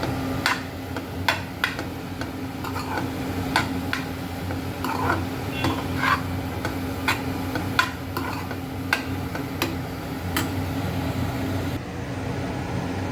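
A spoon stirs red chili powder into momo filling in a pan, tapping the metal in a steady series of sharp clicks over a soft, low cooking hiss.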